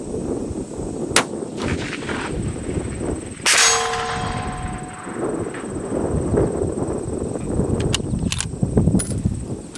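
A .308 Tikka CTR rifle bullet striking a steel target at 1,000 yards, heard as a single sharp metallic clang with a brief ringing tail, mid-clip against a faint outdoor background.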